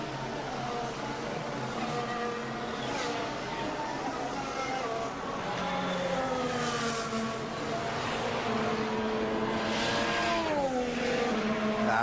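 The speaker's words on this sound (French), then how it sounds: "Le passage d'Ascari pour Max Verstappen." A Formula 1 car in qualifying at the 2023 Italian Grand Prix at Monza sweeps through the Ascari chicane, its high engine whine rising and falling through downshifts and acceleration, loud and continuous.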